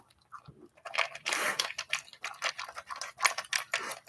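A large dog chews food with a steady run of close, crunchy, wet bites and rapid clicking mastication, quiet and uninterrupted by talk.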